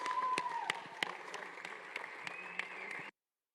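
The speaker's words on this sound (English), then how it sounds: "Let's give these guys another round of applause" Attendees at a 2021 leadership college graduation ceremony give a round of applause: moderate, somewhat distant clapping with scattered sharper claps and a faint voice underneath, ending abruptly after about three seconds.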